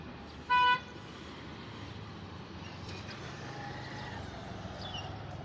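A single short car horn toots at a distance over a steady low rumble of traffic on the Mansurabad bridge in Dhaka, with engines droning faintly throughout.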